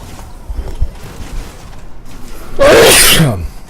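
A single loud, close sneeze bursting out after a couple of seconds of quiet, faint shuffling.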